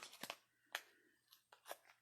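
Quiet, close snips of scissors cutting, several short crisp bursts in an uneven rhythm, no talking.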